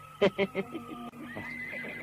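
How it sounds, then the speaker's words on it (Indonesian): A horse neighs near a forest edge, a series of loud whinnying bursts at close range that fade off, followed by a thinner, more distant neigh over a steady background hum. "terus mengejar arah suara-suara ringkik kuda di pinggir hutan"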